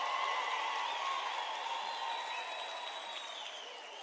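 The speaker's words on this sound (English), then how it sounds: "Can I request a round of applause for them as we celebrate them?" At a university graduation ceremony, the audience gives a steady, distant wash of applause for the graduating students, with faint whistle-like tones drifting over it as it slowly tapers.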